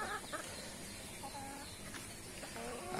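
Chickens on a small farm with an aquaponics setup cluck repeatedly in short, scattered calls over a constant background hiss, moderately close, with no one talking.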